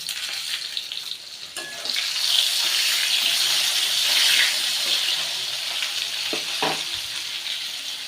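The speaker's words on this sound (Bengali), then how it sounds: "আলুগুলো ভাজা ভাজা হয়ে গেছে এবার আমি একটা টমেটো কুচি দিয়ে দিলাম" Diced potatoes and chopped tomato sizzle in hot oil in a pan for a chanda fish curry, a loud steady frying hiss up close, broken by a few utensil clinks and stirring scrapes.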